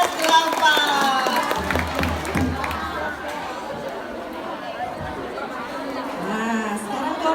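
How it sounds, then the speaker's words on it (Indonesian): Middle school students applaud a grade 8 team at a school quiz competition. A burst of scattered clapping comes early, then gives way to lively crowd chatter and voices in a large room. "tepuk tangan untuk kelompok kelas"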